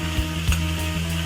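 Cauliflower, peas, papaya and carrot frying in a pan for a Chinese-style vegetable curry, a steady close sizzle with a few stirring scrapes.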